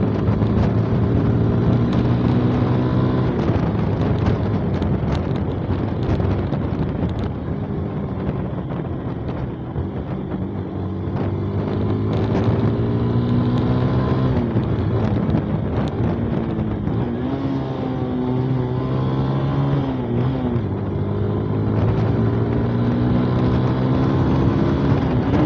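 A carbureted 2024 Rusi Flame 150 scooter rides over a rough, bumpy, muddy road, its engine droning steadily with shifting pitch under constant wind rumble, close and loud throughout with no talking.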